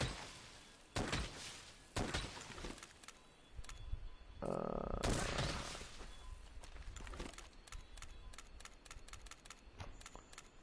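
Light bowgun fire in a video game: a series of sharp, close shots and clacks, some spaced and some in quick bursts, with a brief whooshing blast in the middle and no talking.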